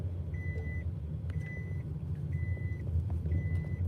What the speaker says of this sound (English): and this beeping in the background.